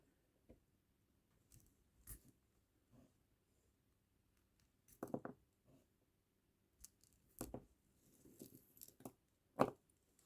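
Scissors snip the string of a vintage kandi bracelet, a few sharp, close clicks scattered between quiet stretches, with no speech.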